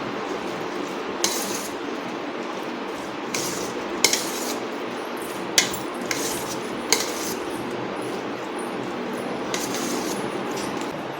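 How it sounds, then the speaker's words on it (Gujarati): Masala spices for mango pickle stirred with mustard oil in a metal bowl, producing scattered clinks and scrapes of a spoon against the dish over a steady background hiss, with no talking. "તો આપણે આ મસાલાની અંદર આપણે સરસિયાનું તેલ 100 ગ્રામ જેટલું ઉમેરીશું। અને બધું જ આપણે સારી રીતે મિક્સ કરી લઈશું।"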